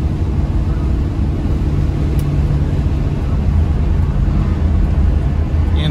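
A 1977 Pontiac Trans Am SE400 cruises in fourth gear, its engine a steady low drone under even road and wind rumble, close and continuous, with no voices.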